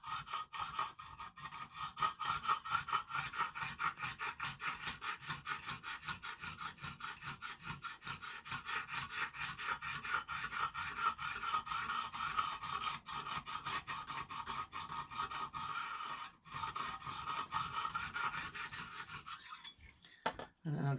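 A Lansky sharpener hones a Stedemon A01A knife with a CTS 204P steel blade in continuous close-up rasping rubs of stone on steel, steady and loud for about twenty seconds before a brief pause near the end.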